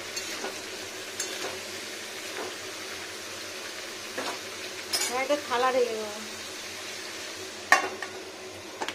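Papaya sizzling in a pan for a vegetarian curry, with soft scraping stirs and a brief clatter, fairly quiet and intermittent while someone speaks over it.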